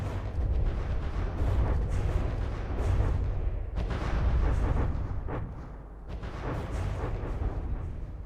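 Dense, continuous battle din of heavy weapons firing in a naval warship combat game, rumbling booms and bursts overlapping without pause, loud and sustained throughout with brief dips.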